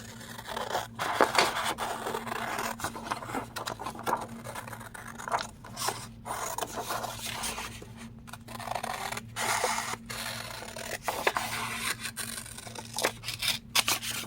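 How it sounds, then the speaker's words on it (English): Scissors cutting through a greeting card along a pencil-marked line, heard as a run of crisp snipping and crunching cuts with brief pauses between strokes, close and fairly quiet, with no talking. "I'm going to use my scissors."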